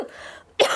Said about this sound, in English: Yes, I have a cough.